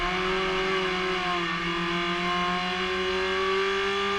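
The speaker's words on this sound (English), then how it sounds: "Revving the guts out of that thing." A SsangYong race car's engine revs hard and loud at close range, a sustained high-pitched howl that holds steady with slight pitch shifts during a SsangYong Racing Series round at Manfeild.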